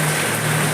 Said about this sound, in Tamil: இந்த மழையை பார்க்குறம்போதே தெரியும் எவ்வளோ கொடூரமாக போயிடுது